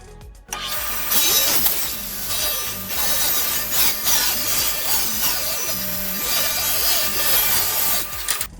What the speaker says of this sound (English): So let's rip it on this side.